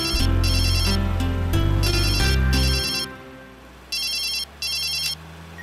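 Telephone ringtone in a Tamil TV serial scene, sounding a loud electronic ring pattern several times, then going quiet before two shorter ring bursts return.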